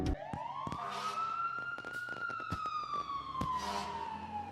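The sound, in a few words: fire brigade siren outside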